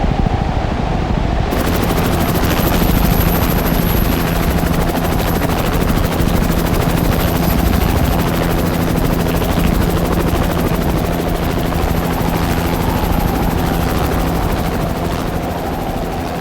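A rescue helicopter hovers over a storm-tossed sea in winds of about 70 knots during a winch attempt, its rotor thudding loud and constant with a steady high whine, mixed with a broad rush of wind and sea.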